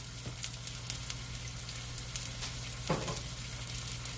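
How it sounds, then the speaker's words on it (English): Green beans and onions stir-fry in a pan, giving a steady close sizzle with occasional scraping stirs and a few sharper crackles. "Just kind of sauteing those real good for a minute or two there."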